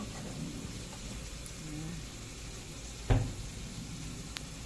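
Sitaw adobo, string beans braised with vinegar, sizzles softly and steadily in a pan, with one brief clatter partway through.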